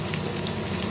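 Spiced fritters fry in hot oil with a dense, even sizzle that holds steady and close throughout a brief moment, with no voices.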